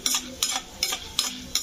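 A spoon scrapes a pan in five even, rhythmic strokes while lentils and spices fry in hot oil beneath, giving a soft sizzle between the close, clear stirring sounds.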